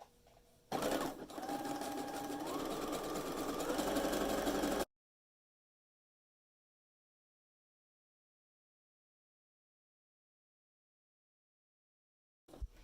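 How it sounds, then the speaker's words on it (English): Sewing machine running a wide zigzag stitch at a long stitch length, a steady close mechanical whir for about four seconds that stops abruptly, followed by long silence. "I put the width of the stitch at 1 because I want a wide zigzag stitch"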